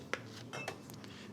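Small fish being set into a little saucepan: a couple of light metallic clinks and soft knocks of cookware, close and isolated, with quiet handling noise between them.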